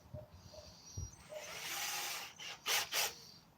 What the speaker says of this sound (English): Very tiny drill bit.